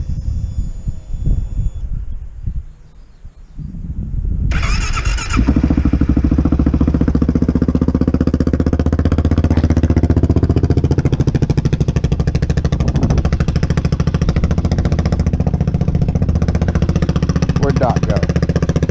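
A Kawasaki KLR 650 motorcycle engine starts up after a few quiet seconds and then runs steadily with a loud, rapid, even thump for the rest of the clip.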